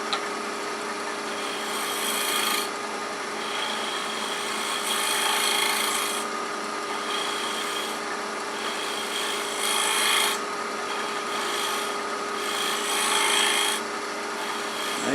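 A woodturning tool shears shavings off a wooden ring holder spinning on a lathe, giving a steady scraping rasp over the lathe's hum that swells in repeated bursts as the tool is pressed into the wood.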